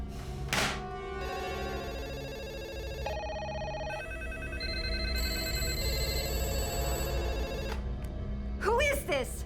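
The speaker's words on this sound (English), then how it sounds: "the phone is ringing every 90 minutes" An old telephone bell rings in repeated bursts, loud and close, with a held electronic tone under it. A voice speaks briefly near the end.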